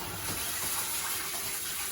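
A shower head on a hose sprays water steadily during a Siberian husky's bath in a tub, giving a continuous close hiss with no pauses and no voices.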